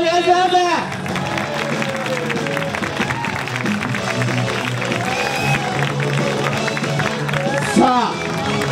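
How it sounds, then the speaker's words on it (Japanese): An audience applauds after a student pro wrestling match at a festival, steady clapping and crowd noise running throughout, with an announcer's voice talking over it. "勝利した天草四郎にもう一度大きな拍手をお願いします。"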